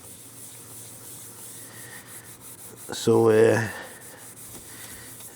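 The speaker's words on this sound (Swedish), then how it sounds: "det är faktiskt en liten fröjd att stå här och slipa lite nu" A short burst of rough rubbing, sandpaper worked over a 1964 Saab 96 body panel before priming, lasting under a second, rises above a steady background hum, with a brief spoken word before it.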